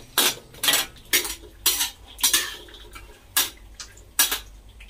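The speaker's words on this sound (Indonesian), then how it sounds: "Jangan lupa kecilin api ya sambil menggoreng, diaduk-aduk." Peanuts stirred while frying in a pan over low heat, a utensil scraping and clinking against the pan in about nine evenly spaced strokes, close and clear with no talk.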